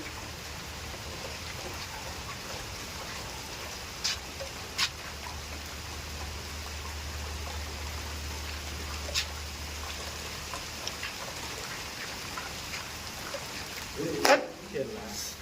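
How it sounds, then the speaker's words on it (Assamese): Rain falls in a steady, even hiss on surfaces close by, with a few sharper drip taps scattered throughout and a brief louder knock near the end. "বৰষুণ পৰি য়েং কৰি আছে ইয়াত"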